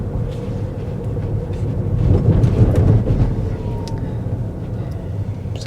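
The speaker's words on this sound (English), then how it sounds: "Let's go over these railway crossing here." A Ford Mustang Mach-E GT electric car rumbles over a railway crossing, a low heavy thudding swell that builds in the middle and fades, under steady motor and road noise.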